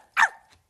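A person imitating a puppy barking, a single short yappy woof followed by a faint breathy tail.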